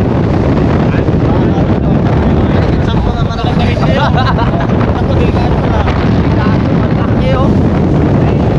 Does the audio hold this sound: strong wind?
yes